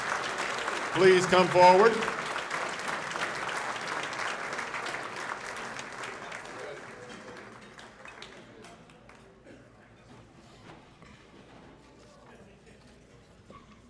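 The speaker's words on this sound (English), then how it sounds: "We'll give Andrea a round of applause." An awards banquet audience breaks into applause, loud at first and then thinning out as it fades over several seconds, with a voice speaking near the start.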